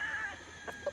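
A chicken at a Bacolod gamefowl farm gives a couple of short clucks near the end, faint against a steady background hum.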